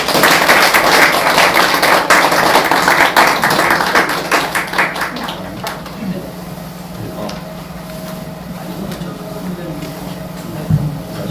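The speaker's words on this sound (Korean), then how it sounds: "여러분 박수로 환영해 주십시오" An audience at a lecture and debate forum claps steadily for several seconds, welcoming a speaker, the applause fading out and leaving a quiet room hum behind.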